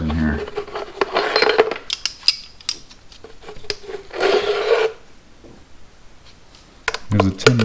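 Hand tools clatter and scrape as someone rummages through a full toolbox while working on a 1984 Shadow 500 motorcycle, with bursts of metallic rattling between quieter stretches and occasional speech.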